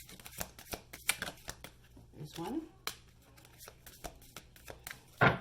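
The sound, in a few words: shuffling a deck of cards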